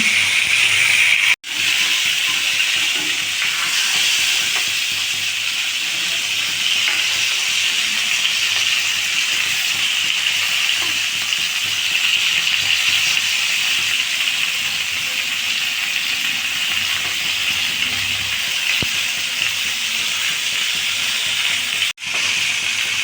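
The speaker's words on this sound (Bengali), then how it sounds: "আলুগুলো এবার ভালো করে ভেজে নিন" Potatoes fry in oil, which sizzles and hisses steadily for a long stretch, a constant crackling frying noise with barely any change and no voices.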